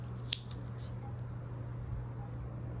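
A single crisp snip of scissors trimming a succulent stem, quiet and close, followed by a soft faint rustle over low background hum.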